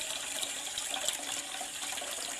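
Water running into a pan to be heated for boiling pasta in a home kitchen, a steady, soft splashing pour heard on its own for a couple of seconds.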